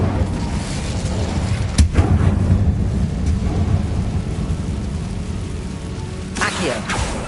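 A fire spell cast in Hogwarts Legacy bursts out as a loud, rumbling roar with crackling flares, sustained over dense game ambience and a flaring surge near the end.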